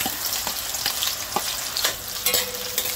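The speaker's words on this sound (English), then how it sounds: "So the oil is hot now. I'm gonna add these onion and garlic." Chopped onion and garlic frying in hot oil for a breadfruit and saltfish curry make a dense, loud, continuous sizzle, broken by a few stirring clicks and with no voices.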